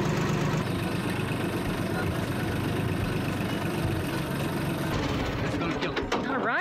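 A tractor engine idles with a steady, low chugging rumble, loud and close, while someone talks over it.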